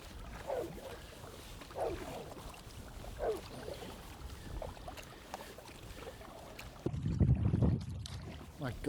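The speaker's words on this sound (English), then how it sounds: "My God, it's so windy, it's like being at sea." Strong headwind blows over a choppy river during kayaking, with gusty rumbling wind across the microphone, the rhythmic splash of paddle strokes, and a louder buffeting gust near the end.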